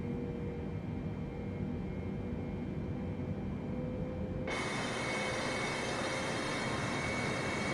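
A Boeing 747-8 cruises in Microsoft Flight Simulator 2020 with a steady, faint broadband jet roar and a thin whine, the hiss suddenly brightening and widening partway through as the engine tone shifts.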